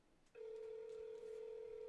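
Telephone call signal on a live call after dialing: a steady, clear electronic tone that starts abruptly and holds on without a break.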